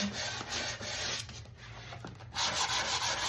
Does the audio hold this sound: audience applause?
no